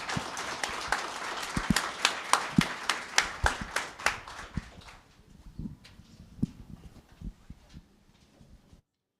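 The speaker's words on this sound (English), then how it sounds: "And for the panelists, round of applause." Conference audience applauds panelists with sharp, distinct claps that are dense at first, then thin out and fade to a few scattered claps before stopping.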